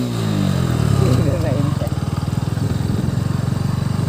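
A motorcycle on an evening ride on a main road, its engine close and loud, revving and then settling into a rapid, even thump, with people talking over it.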